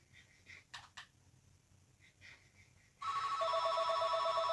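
A mobile phone rings loudly, a steady electronic ringtone that bursts in after a few seconds of quiet room sound with faint scattered noises, and continues at high volume to the end.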